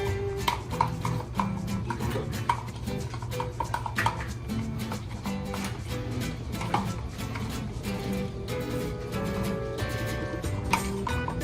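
Omelette eggs being mixed in a bowl by a child and father cooking at home, a quick run of close, rhythmic clicking and tapping strokes against the bowl that continues steadily throughout.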